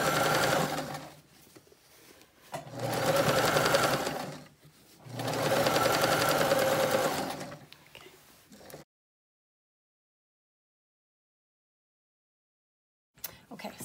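A sewing machine batch-sews face masks in a line, running in three sustained bursts with short pauses between, close and loud, then silence.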